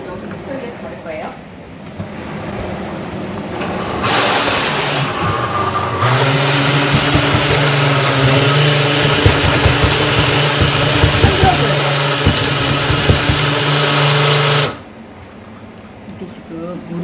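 A mixer blender grinds curry ingredients with hot water, its motor kicking in with a loud, steady whine and churning roar that runs for several seconds before cutting off abruptly, with a voice talking before and during it.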